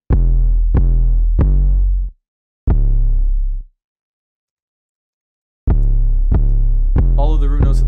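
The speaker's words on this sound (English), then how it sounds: "We got the 808." Deep, booming 808 bass notes from a pluggnb beat play alone and loud in a rhythmic run. Each note sustains with a rich low tone, with short silent breaks between phrases and no talking.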